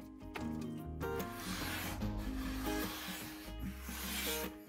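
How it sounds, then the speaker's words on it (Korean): A kitchen knife freshly sharpened on a 5000-grit whetstone slices through A4 paper with a steady, close rasping scrape that runs the whole time, set against tonal background music. "5000입도에서는 1000입도와 다르게 A4용지 썰어지는 소리가 달라지게 됩니다."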